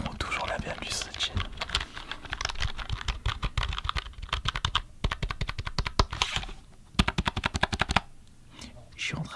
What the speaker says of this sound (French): quelle est la touche la plus relaxante avec ce micro et ce clavier